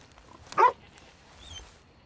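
A dog in the video game Red Dead Redemption 2 lets out one short, fairly close bark over faint, quiet game ambience.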